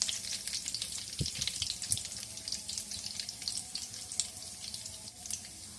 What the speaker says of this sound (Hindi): ऐड कर दूँगी इसमें बटन रेड चिलीज़ और उसके साथ ही ऐड कर दूँगी कड़ी पत्ता और इसको थोड़ा सा कर लूँगी फ्राई